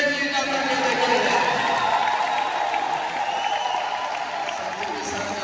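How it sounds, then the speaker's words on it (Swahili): A church congregation at a combined choir Mass applauds loudly, with a high wavering trill of ululation riding over the clapping before it gradually eases off. "tumshangilie Bwana Yesu kwa makofi mengi na vigelegele"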